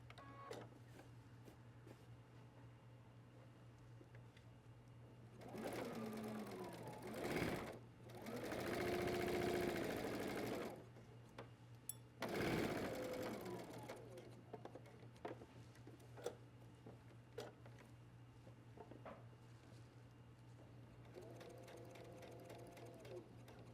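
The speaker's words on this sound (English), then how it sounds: "I'm going to stitch across the top first, and we are going to stitch all the way around this opening." A sewing machine stitching across the top and around an opening of a men's waistcoat, bursts of fast rhythmic whirring separated by quiet pauses, close and clear with no voices.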